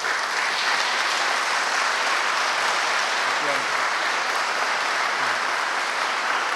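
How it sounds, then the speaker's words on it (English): Middle school spring concert audience gives the 8th grade band a long, sustained round of applause, dense and even, with a few scattered voices calling out within it. "they need a tremendous round of applause for that"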